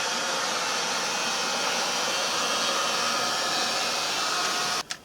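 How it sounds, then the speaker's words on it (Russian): Hair dryer blowing steadily to dry the surfaces of a non-separable Indesit washing machine drum before gluing, a loud continuous whoosh that cuts off abruptly near the end. "с помощью фена мы хорошо просушим поверхности"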